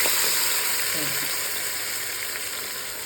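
Marinated oysters fry in hot coconut oil, giving a steady, close, even sizzle that runs unbroken and fairly loud from start to finish.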